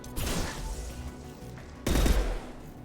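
Sniper rifle fire in the video game Mass Effect 2: two heavy, booming shots about two seconds apart, each with a short echoing tail.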